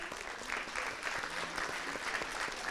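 Conference audience applauding a guest at a talk on hypnosis and the brain: dense, steady clapping from many hands, fairly distant and even, filling the whole stretch without speech.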